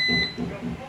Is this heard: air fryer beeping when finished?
yes